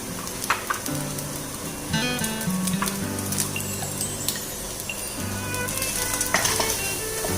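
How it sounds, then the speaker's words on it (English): Chicken kheema fried rice sizzles steadily in a hot pan while being stirred, with a continuous frying crackle and occasional clinks of a utensil against the pan, loud and close with no talking. "keep on stirring."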